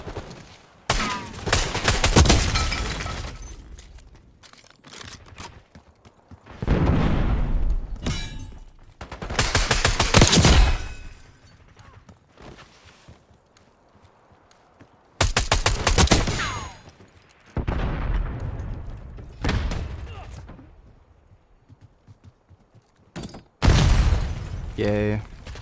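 Video game gunfire comes in loud, close bursts of rapid automatic shots and heavy impacts, separated by brief quieter gaps, with people talking around the shooting.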